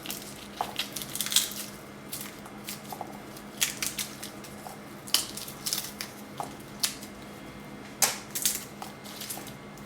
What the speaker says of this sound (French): On va maintenant détailler la gousse d'ail